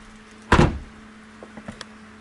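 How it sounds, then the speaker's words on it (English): A single solid thump of a 2015 Mercedes-AMG GT S door shutting nearby, followed by faint clicks and rattles. "So I'll just close the door."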